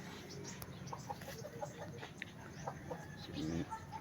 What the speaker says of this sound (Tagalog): Sila manok guys oh.